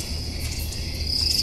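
A steady high-pitched trill of crickets in American Truck Simulator, constant and fairly close, with no voices.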